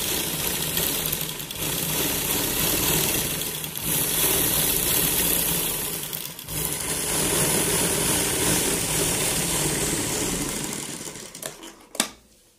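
A sewing machine runs steadily while stitching a round collar neckline, a continuous close whirring drone with brief pauses, ending in a sharp click as it stops.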